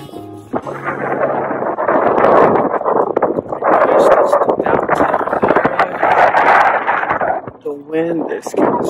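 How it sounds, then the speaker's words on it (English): Strong wind buffets the microphone in loud, rumbling gusts while a person talks over it, out kayaking on Lake Mendota in Madison, Wisconsin. "Wind is getting so strong."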